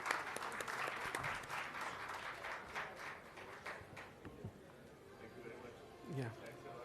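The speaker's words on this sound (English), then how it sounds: "A big round of applause, BSY," Applause fills a symposium hall at an annual general meeting, a sustained patter of many hands that thins out toward the end, with a voice speaking over it.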